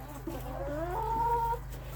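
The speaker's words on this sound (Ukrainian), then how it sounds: "воно ще один іде півник" A rooster gives a drawn-out, rising clucking call in a farmyard henhouse. It lasts about a second, is fairly close and clear, and has a low steady hum beneath it.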